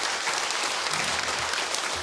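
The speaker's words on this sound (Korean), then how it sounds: "박수." A church congregation claps together during a Korean sermon, a steady, dense wash of applause holding at an even level for about two seconds.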